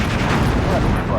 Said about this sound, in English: Gargantuan explosion.